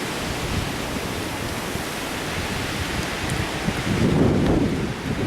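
Heavy rain pours steadily outdoors during a thunderstorm, a dense broadband hiss with a low rumble swelling near the end that may be distant thunder.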